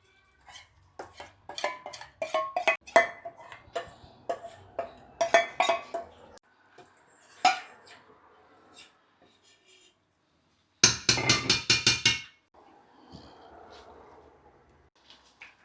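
A spoon scrapes and clanks inside a cooking pot of Nigerian ogbolo soup, with scattered metallic knocks and a burst of rapid rattling, some soft bubbling in between.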